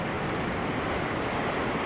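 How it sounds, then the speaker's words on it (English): A fast-moving river swollen after rain gives a continuous broad rushing roar, steady and unbroken, with no voices over it. "just look at how fast that water's moving."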